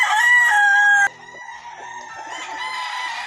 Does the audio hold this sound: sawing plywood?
no